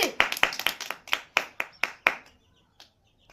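A small crowd at a prize game of rolling a wheel into an empty box claps together in a brisk, even rhythm of about nine loud, close claps, then fades out to one stray clap.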